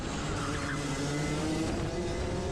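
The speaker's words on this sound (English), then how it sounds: "you can hear that the Rotax is a little bit quieter than the X30" Rotax go-kart engines race around a kart track at Oakleigh, producing a continuous buzzing drone at moderate distance, with a slight rise and fall in pitch as the karts run through the corners.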